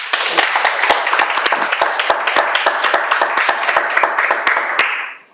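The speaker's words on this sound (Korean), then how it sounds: "여러분 박수 한번 부탁드립니다" Sustained applause from a lecture audience, dense clapping with a few sharp individual claps standing out, steady for several seconds before fading abruptly.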